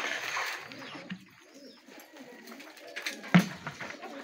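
A bird, probably a pigeon, cooing on a roof, soft low coos heard faintly under someone talking nearby, with one sharper knock near the end.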